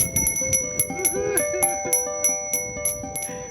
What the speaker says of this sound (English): Time to ring your bell for peace